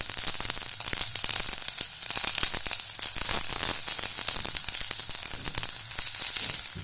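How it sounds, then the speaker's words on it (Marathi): Onion, garlic and ginger pieces frying in a pan until golden brown, giving a dense, even crackling sizzle that runs unbroken throughout. "हा कांदा छान आपण गोल्डन ब्राऊन होईपर्यंत छान भाजून घेऊया"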